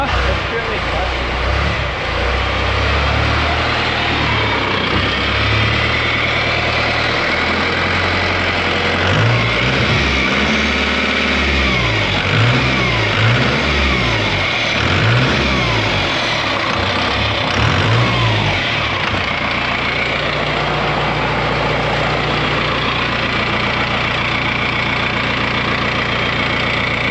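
4BT Cummins diesel engine in a Ford Bronco idles with a loud rough clatter, revs up and down in several swelling waves, then settles back to idle; people talk nearby.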